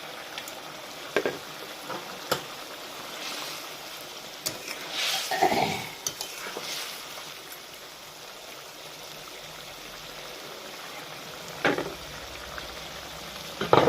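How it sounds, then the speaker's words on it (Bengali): A thin village-style fish curry broth with small mourala fish and eggplant simmers in a pot, giving a soft steady bubbling and trickling hiss with a few louder stirring bursts, close and moderately quiet, with no voices. "ঝোল ঝোলটা ফুটে গেছে, আমি এখন মাছটা দিয়ে দিলাম"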